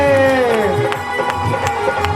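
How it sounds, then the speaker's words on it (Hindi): A group claps in steady rhythm while singing a Krishna bhajan aarti, the claps landing as regular sharp beats beneath the voices. "सभी लोग ताली बजाते हुए"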